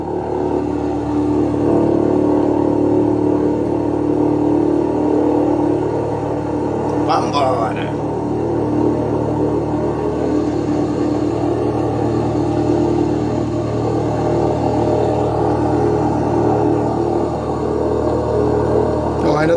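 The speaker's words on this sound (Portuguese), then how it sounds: "Oh, ainda estão aquecendo o motor, vamos lá." A vehicle engine idles and warms up, a steady low rumble and whir running throughout at moderate loudness, with people talking over it.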